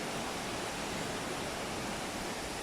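Water from a waterfall beside Goa Tetes cave at Tumpak Sewu, East Java, roars in a steady, dense broadband rush, loud and continuous with no pauses.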